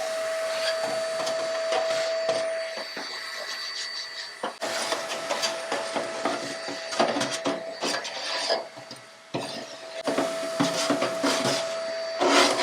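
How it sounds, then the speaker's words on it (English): An ash vacuum sucks ash and leftover pellets out of a pellet smoker's fire pot, giving a loud, steady motor whine with rattling and scraping as the nozzle works around inside. "an ash vacuum like this is absolutely worth its weight in gold"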